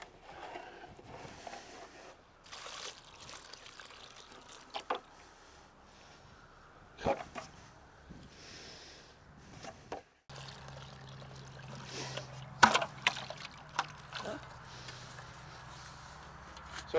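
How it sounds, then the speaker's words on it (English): Water poured from a container onto a newly planted grafted rose inside a soil berm, a soft intermittent trickle and splash with a steadier flow in the second half, close by, without talk. "when we water it, that the water goes down into the root system"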